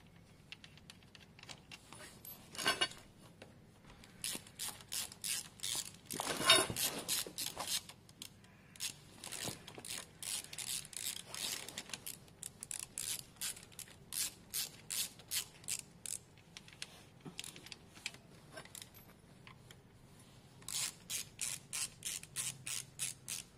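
A ratchet clicks in quick repeated bursts while loosened bolts are backed out of the variator cover on a Piaggio Vespa scooter, with short pauses and metallic handling noises between runs.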